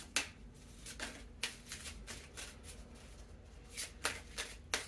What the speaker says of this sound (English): it's hard to shuffle big decks